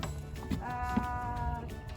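A sheep bleats close by in a brief, wavering call, clear and moderately quiet with no talking over it.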